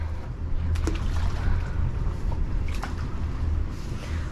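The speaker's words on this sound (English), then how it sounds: "you see her engines are in reverse, pulling us into the dock" Boat engines run in reverse while easing into a drive-in dock slip, a steady low rumble with wind buffeting the microphone and a few faint knocks and creaks over it.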